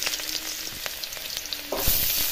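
Chopped onion hitting hot oil in a pan gives a steady close sizzle, with soft stirring scrapes and a louder burst of crackle near the end; no one speaks.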